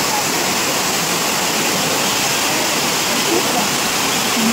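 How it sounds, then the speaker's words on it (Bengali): Elephant Falls waterfall roaring in a dense, constant broadband rush of falling water, loud and close, with no breaks. "এই ঝর্নার জলের আওয়াজ।"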